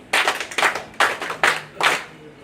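A small group claps for staff at a Bougainville Power crane truck launch, five short bursts of clapping in a loose rhythm, close and fairly loud.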